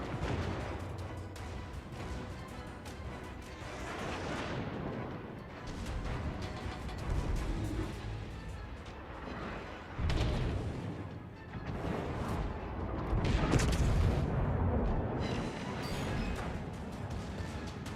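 Warship guns firing shells in a World of Warships naval battle, a steady series of deep booms and rumbling blasts, fairly loud and continuous, with a voice talking over part of it.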